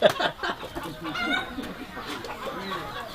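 A rooster crows and clucks in a busy, cluttered outdoor scene, with faint voices mixed into the background throughout.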